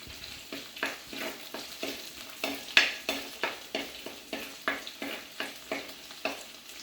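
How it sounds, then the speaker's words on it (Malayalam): A spatula scrapes and stirs a coconut and fish peera mixture in a hot pan over a raised burner as it browns, regular rhythmic strokes about twice a second over a soft sizzle, close up. "ബർണർ കൂട്ടി വെച്ച് നല്ലതായിട്ടൊന്ന് ബ്രൗണിഷ് കളറായിട്ട് വഴറ്റട്ടെ കേട്ടോ"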